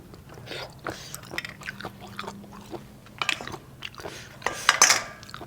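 Crunchy chewing of spicy pounded field snails eaten with bitter melon, a series of irregular close bites and crunches with occasional clinks of cutlery, no one talking.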